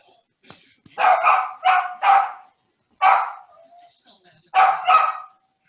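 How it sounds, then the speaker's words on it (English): A dog barking repeatedly indoors: sharp, close barks in short bursts, five or six in all with pauses between, loud and alone without talk. "My dog's going crazy."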